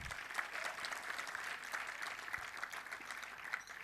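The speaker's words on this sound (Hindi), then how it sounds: "ताली लड़के मार सकते हैं" Audience applause at an anti-drug awareness gathering, a dense burst of many hands clapping steadily throughout, fairly close and even in loudness.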